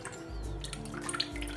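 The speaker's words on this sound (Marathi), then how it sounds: "हे बघा, व्यवस्थित असं खाली पाणी पडलेलं आहे." Water drips and trickles from drained cooked dal into a vessel below, faint close splashes and small drops over a low steady hum, no speech.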